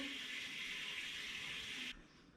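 Cold water runs from a kitchen tap in a steady hiss for about two seconds before it is shut off, with no talking.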